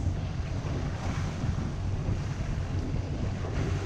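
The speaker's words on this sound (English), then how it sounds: "We've been motoring all along." Steady broadband wash of wind and sea around a Hallberg-Rassy 54 sailboat motoring offshore in misty Maine waters. Constant roar with no distinct events and no talk.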